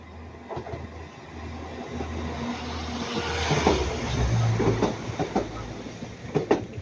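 A Northern Class 195 diesel multiple unit passes at Ardwick on the approach to Manchester Piccadilly, a steady low rumble building to a louder rattling clatter of wheels over rail joints, close by with no talk.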